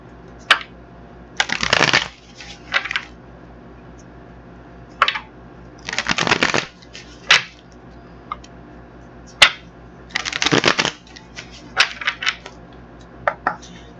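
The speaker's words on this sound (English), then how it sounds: "we'll get the other deck together and shuffle them up" Deck of cards shuffled by hand in a quiet room, several short papery riffling bursts and flicks spread out with pauses between them, close and clear.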